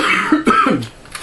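A man coughs and clears his throat a few times indoors, short rough bursts close to the microphone with no talk.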